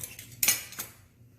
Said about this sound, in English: I'm going to sit our spoon and our measuring utensils down here as well